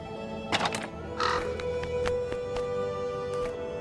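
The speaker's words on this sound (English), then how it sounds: "Wonder what that crow's doing in there." A crow in the Nancy Drew game Haunting of Castle Malloy caws in a short burst of close, harsh calls, followed by scattered thunks and clicks over a steady ambient hum.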